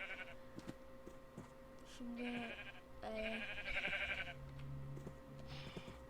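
Sheep in the Minecraft video game bleat in several short, wavering calls at moderate level, with someone talking briefly over a low game background.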